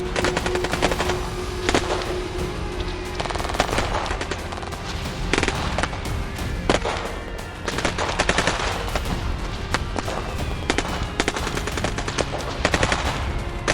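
A heavy machine gun, probably a Maxim MG 08, firing in long continuous bursts of rapid, dense cracks, loud and close, with scattered heavier shots and gunfire through the whole stretch and no voices.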